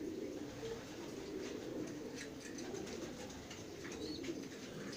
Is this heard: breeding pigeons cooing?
yes